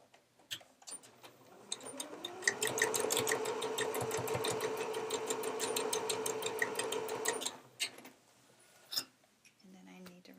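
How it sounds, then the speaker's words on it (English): A sewing machine stitches through quilt weight cotton in one steady, rapidly ticking run of about five seconds, close and moderately loud, framed by scattered clicks and handling noises. "we're going to stitch across 2 inches to create the same depth"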